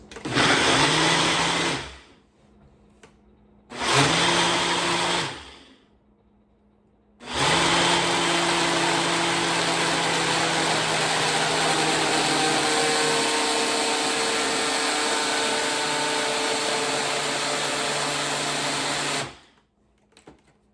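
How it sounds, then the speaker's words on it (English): A blender making a cheese sauce substitute roars loudly in two short bursts, stops briefly, then runs steadily for about twelve seconds before cutting off. "it's gonna be the blender for the next probably 30 seconds"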